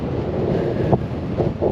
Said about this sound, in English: And that wind is whipping today